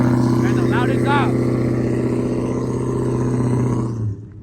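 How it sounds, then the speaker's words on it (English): At a crew meet car show, a car does a burnout with a loud, sustained engine roar and revving that runs nearly the whole time before cutting off abruptly at the end, while voices are heard over it. "my man's over here burning out"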